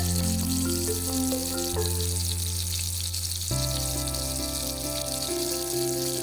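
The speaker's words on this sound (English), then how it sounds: "Just listen to that sizzle, it's like music" A steady, dense sizzle of meat frying on a hot grill, loud and continuous with no talking.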